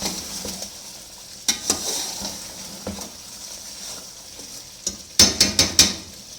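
Biryani masala in a pot being stirred with coriander, mint and green chillies, giving a soft sizzle with scattered scrapes and a quick run of sharp utensil knocks near the end.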